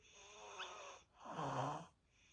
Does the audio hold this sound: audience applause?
no